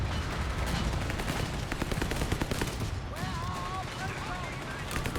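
Machine gun fire in the Company of Heroes 3 game, rapid bursts of shots in a busy battle mix, with a whistling sweep sound near the end and a voice talking over it.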